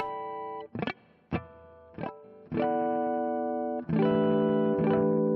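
An electric guitar through effects, muted at the neck, plays a handful of plucked notes, some choked off short, then rings out with sustained, shimmering harmonics.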